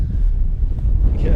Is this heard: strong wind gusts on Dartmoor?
yes